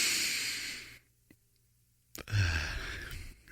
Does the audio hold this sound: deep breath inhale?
yes